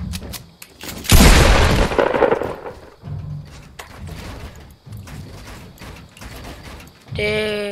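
Submachine gun fire in the video game Fortnite, a loud burst of rapid shots followed by a string of sharp, repeated reports and a closing game tone.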